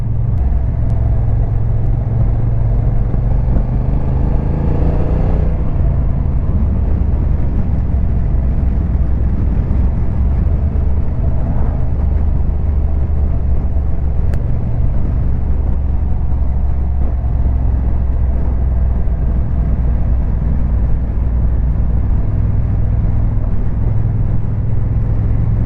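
Honda NT1100 motorcycle riding along an open road, a steady low engine drone and rumble with constant wind buffeting, continuous and fairly loud throughout with no talking.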